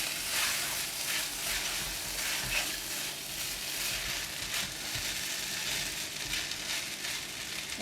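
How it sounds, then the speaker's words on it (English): Fried rice with egg and mushroom crackles in a pan, a fairly quiet, continuous sizzle with the soft rustle of a few stirs. "Now we will add in the egg and mushroom. Give it a couple of stirs."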